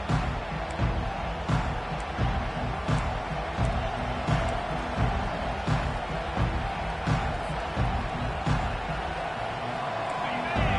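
Crowd noise fills a college football stadium during an FSU–Miami game, a steady loud roar of fans with swelling cheers and scattered claps running throughout the stretch.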